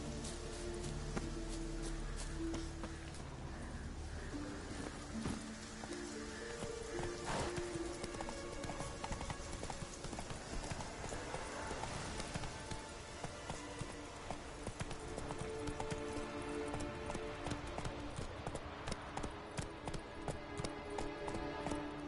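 Hooves of the horse Roach in The Witcher 3 video game, a rhythmic clip-clop of galloping under game music and ambient effects, steady and moderately loud throughout.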